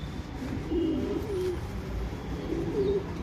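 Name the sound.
cooing of a male rakdar pigeon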